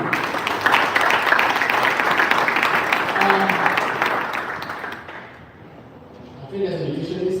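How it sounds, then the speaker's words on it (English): An audience in a hall claps hard and steadily for about five seconds, a dense, loud wash of applause that fades into a lull before a speaker's voice starts up. "I want everybody in our hall to clap so hard"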